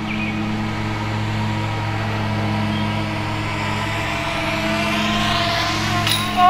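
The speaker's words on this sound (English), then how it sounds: "You know, there's the mower going, there's a highway." A lawn mower drones steadily on a golf course, its engine hum continuous and moderately loud, with distant highway traffic washing beneath; no talking.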